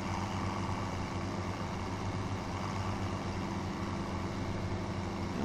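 A second tractor engine in Farming Simulator 17 runs steadily, a close, even low rumble with a constant hum and no breaks.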